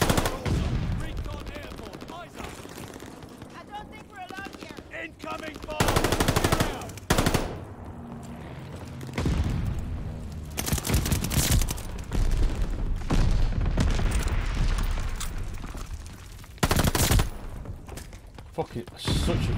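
SMG fire in Call of Duty Vanguard: loud, rapid automatic bursts in several sharp clusters, interleaved with thuds and other game sounds, with speech heard between the volleys.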